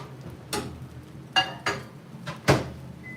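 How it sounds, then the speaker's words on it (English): Microwave oven in a home kitchen: several sharp clicks and knocks of the door and latch sound close by, spaced irregularly over a quiet background, with a short beep at the end. "Let's put this in the microwave."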